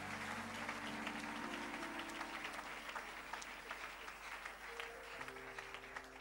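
A church congregation claps together in sustained, dense applause, loud and steady throughout, with sustained keyboard or organ chords playing beneath.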